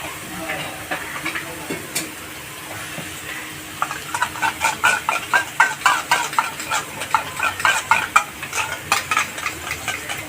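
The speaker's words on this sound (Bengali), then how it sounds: "এই দেখুন 2 চামচ টক দই ফেটিয়ে নেব" Two spoonfuls of homemade sour yogurt are whisked with a spoon, a quick run of rhythmic scraping taps that grows louder partway through, over a faint background sizzle.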